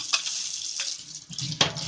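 Water and a scrubbing brush working inside a Fridja f1900 fridge, with soft wet swishes and splashing strokes, close and moderately quiet, punctuated by a couple of sharper scrapes.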